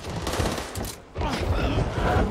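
Back 4 Blood video game gunfire, loud dense bursts of shots that break off briefly near the middle and then resume, with game noise running under them.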